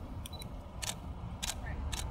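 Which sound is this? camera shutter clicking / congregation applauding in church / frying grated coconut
camera shutter clicking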